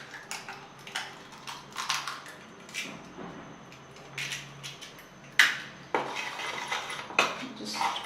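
Batter of dry spices and egg being mixed in a bowl, a run of clinking and scraping strokes of a utensil against the bowl in an uneven rhythm, fairly close, with no speech.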